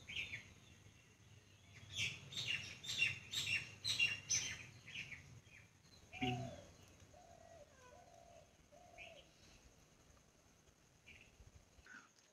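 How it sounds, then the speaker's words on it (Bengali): Birds call around a village at midday: a cluster of bright chirps and twittering, then soft dove-like coos, with further faint chirps, fairly quiet overall. "এই টাইমে দুপুরবেলায় পাখির আওয়াজগুলো কিন্তু দারুণ লাগে"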